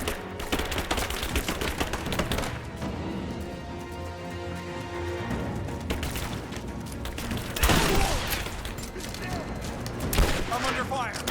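Dense gunfire from the Rise of the Tomb Raider video game, with rapid bursts and volleys of shots rolling continuously and loud throughout, with a few heavier cracks standing out near the end; voices are faintly mixed in.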